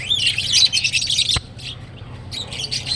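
Birds chirp and tweet in busy, overlapping bursts, fairly close, with a brief pause before the high twittering picks up again.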